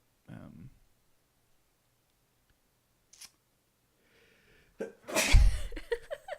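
A loud, sharp sneeze bursts out after a few faint scattered sounds, close up and followed by brief rustling.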